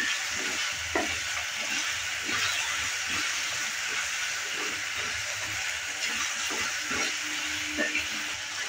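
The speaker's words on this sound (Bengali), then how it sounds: "আলুটা দেওয়ার পর নেড়ে চেড়ে নিচ্ছি।" Diced potatoes sizzle steadily in a hot frying pan, with repeated scraping stirs cutting through the close, continuous crackle.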